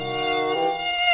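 Animated mosquito buzzing, a continuous high whining drone with a harmonic tone, close and steady for about a second.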